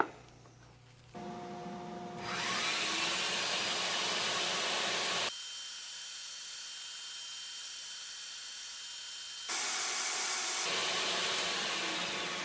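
After a short low hum, a power saw spins up and cuts steadily through a wooden glider rocker furniture part held in a jig, loud and close, with the tone shifting as the blade works through the wood.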